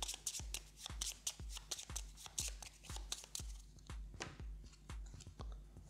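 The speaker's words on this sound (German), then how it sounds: "Patrouillenstapel neu mischen." Cards of a patrol deck shuffled in a tabletop board game: repeated crisp riffling bursts in a steady rhythm, close and clear with no talking.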